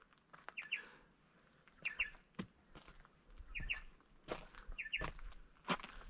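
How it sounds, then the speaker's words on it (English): Birds chirping outdoors at an abandoned rural brick site in South Australia, short bright calls repeating about once a second, fairly clear against quiet ambience with faint footsteps and rustling. "Can you hear the birds?"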